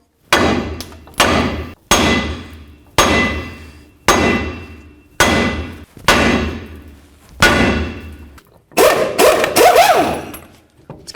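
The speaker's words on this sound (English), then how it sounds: "Let's go ahead and bonk on the knuckle again." A hammer strikes the steering knuckle of a 2002-09 Dodge RAM 1500 during a front lower control arm replacement: eight heavy metallic bangs at a steady pace, each ringing briefly, followed by a quicker cluster of clangs, close and with no talk.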